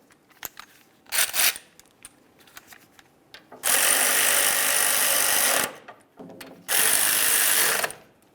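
A ratchet tightens brake caliper slider bolts on a Ford Explorer, first in a couple of short clicking bursts, then in two longer, loud runs of rapid ratcheting close by.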